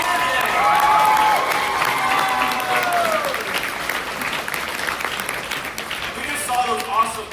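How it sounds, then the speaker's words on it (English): An audience at the Ai-kon anime convention bursts into sustained applause with scattered cheers and whoops. The clapping stays loud and steady, and a voice speaks over it near the start. "Give a round of applause for the Ai-kon staff, the volunteers, and the committee for getting everybody here today."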